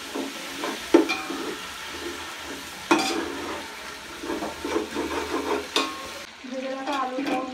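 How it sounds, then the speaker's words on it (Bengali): A spice paste sautéed with a little water in a pan, stirred at intervals with a few sharp scraping knocks over a steady low sizzle, close and fairly loud. "অল্প একটু জল দিয়ে মশলাটা ভালো করে কষিয়ে নেব।"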